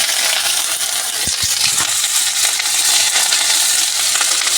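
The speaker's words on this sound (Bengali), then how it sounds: "এই আদা রসুনটা আমি দিয়ে দিচ্ছি" Ginger and garlic frying in hot mustard oil in a pan, a loud, steady sizzle with a few faint clicks and knocks of stirring, with no talking.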